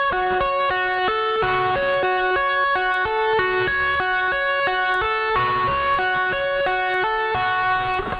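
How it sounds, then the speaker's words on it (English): Electric guitar plays the tapping section of a guitar solo slowly, with an even stream of bright repeating notes, slightly processed with effects and heard alone throughout. "The first part of the solo, the tapping, looks something like this"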